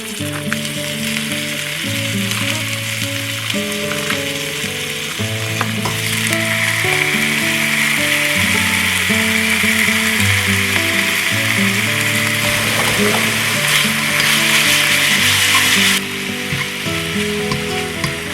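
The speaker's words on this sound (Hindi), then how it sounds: "ये है वो लैम और इसको भी मैं इस पैन में फ्राई करती हूँ" Marinated lamb sizzles and fries steadily in a pan, a loud continuous hiss under background music with occasional stirring clatter.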